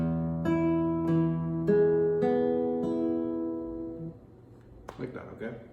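Flamenco guitar plays solea chords, strummed with alternating thumb and index strokes at normal speed, a series of ringing chord attacks about every half second, close and clear, ending with a few sharper percussive strikes.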